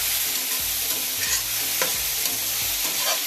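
Green beans sizzle in a pan over a high flame, a dense, steady frying hiss broken by repeated stirring scrapes and clicks, with no talk.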